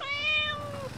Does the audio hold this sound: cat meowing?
yes